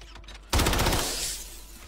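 A sudden loud burst of rapid gunfire in a video game, cutting sharply into near silence and then fading into a short reverberant tail.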